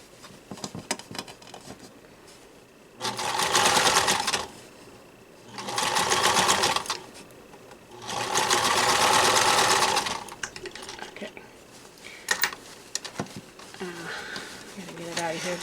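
A sewing machine stitches through pre-pressed fabric on a pocket filter mask in three distinct bursts of rapid, close whirring, separated by short pauses with faint handling noises.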